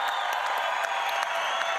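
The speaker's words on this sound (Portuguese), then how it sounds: "Presidente, eu peço aplausos" A crowd at a Brazilian government event applauds President Lula, dense steady clapping with a few cheers filling the whole short stretch at even loudness.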